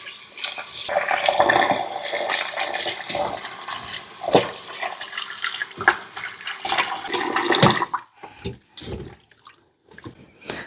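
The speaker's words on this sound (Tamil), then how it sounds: "இருங்க, உள்ள தண்ணி கொஞ்சம் ஃபில் பண்ணுவோம்" Tap water runs steadily into the cavity of a whole 5 kg Thanksgiving turkey, a loud, continuous splashing gush with gurgles that cuts off near the end, leaving a few quieter drips and knocks.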